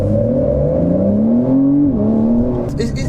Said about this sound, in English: Sports exhaust, I think. Can you switch it off? I think now it's on.